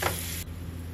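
Marinated paneer hits hot oil in a frying pan, giving a brief, steady hiss of sizzling that is close and fairly quiet.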